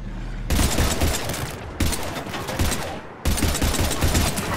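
Sustained gunfire in the PC shooter Mass Effect 3, loud, dense automatic bursts in three long volleys separated by brief cut-offs, with no talk over it.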